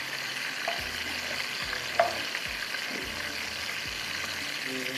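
Chilies and tomatoes fry in oil in a pan, giving a soft continuous sizzle and hiss broken by a few stirring clicks and bumps, fairly quiet and without any talking.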